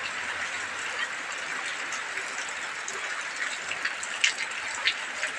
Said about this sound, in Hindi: आप लोग बरसात देखिए कितना सुंदर नज़ारा है।